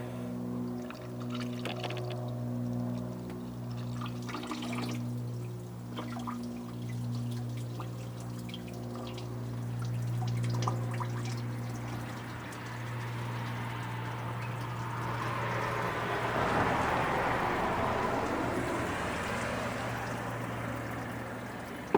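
Coolant and cleaner being poured into a Subaru heater core, pushing fluid out of a hose into a bucket; a steady pouring, trickling flow with a low hum beneath, building toward the end.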